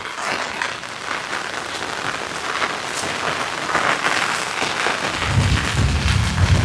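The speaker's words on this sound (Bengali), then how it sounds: "আজকে অনেক অনেক বৃষ্টি পড়তেছে।" Heavy rain pours steadily on a rainy day, a dense, continuous hiss of drops across surfaces with scattered heavier splashes, growing slightly louder and fuller toward the end, with no voices.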